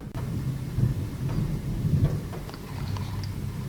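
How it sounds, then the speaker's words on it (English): Rain patters against the windows of a supposedly haunted house, a steady soft hiss with faint scattered drops and a low rumble underneath, with no voices. "Rain on the windows by the sound of it."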